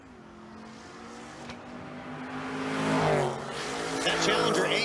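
A 5th gen Camaro and a Dodge Challenger in a drag race, V8 engines roaring and building in a distant, swelling run with a rising whine toward the end, under a track announcer's commentary.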